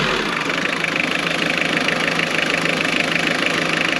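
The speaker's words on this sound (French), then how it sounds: "ce claquement du diesel" A diesel car engine idles with a steady, even clatter, the knocking rattle constant and close with no voices or revving over it.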